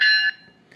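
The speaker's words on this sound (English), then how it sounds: "F1, which is the bell, which is a nice, crisp, clear, accurate sounding bell." A single bright metallic bell ding from a model train locomotive's sound system, clear and ringing, decaying quickly, with a faint second tap just after.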